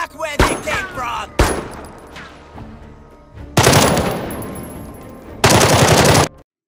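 Gunfire from a Jagged Alliance 3 combat turn: loud bursts of automatic fire and crackling shots come in separate volleys, with short quieter gaps between them and no speech.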